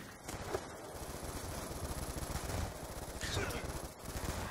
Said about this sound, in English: Freaking had the sentry gun.